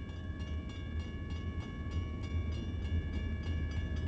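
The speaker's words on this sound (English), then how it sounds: "Santa Fe trains from this busy Bay Area port head due east and turn south at Stockton, California" A Santa Fe train passes out of a busy Bay Area port, giving a steady low rumble with faint rhythmic clicking throughout and no one talking.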